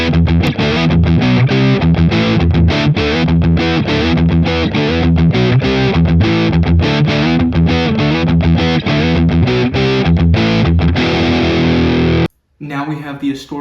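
Loud, distorted electric guitar through a Boss Katana amp's distortion pedal effect, riffing on chunky, repeated chords, then an abrupt stop followed by a brief softer tail.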